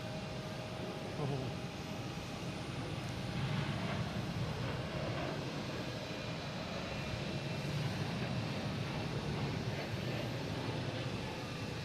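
A Delta Airbus A321neo departing Boston Logan for San Diego produces a sustained, broad jet roar at moderate distance, slowly swelling and easing over about twelve seconds.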